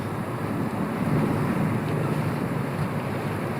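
A Colvic Watson 34 sailboat ploughs through open Danish waters, steady loud rushing of water against the bow mixed with heavy wind buffeting the microphone, continuous and close.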